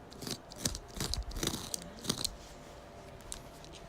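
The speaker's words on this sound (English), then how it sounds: "Let's try the scissors, because I don't want to actually cut a hole out." Several crisp, close snips of scissors cutting through old T-shirt or jeans fabric in a quick irregular cluster, then quieter rustling.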